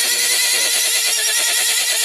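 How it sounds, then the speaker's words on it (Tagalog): A horse neighs on a rural road in the province, a steady, fairly loud whinny lasting the full stretch without any talk over it. "Tingog ang kabayo."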